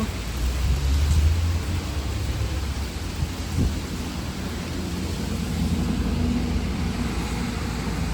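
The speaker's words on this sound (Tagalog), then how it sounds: "Umuulan, umuulan." Rain falls steadily outside during a dark, stormy day, a continuous broad hiss with a deeper rumble early on, alone without voices.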